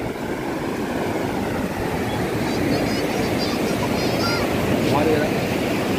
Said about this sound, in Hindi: तो फ्रेंड्स हम फाइनली पहुंच चुके हैं समुद्र किनारे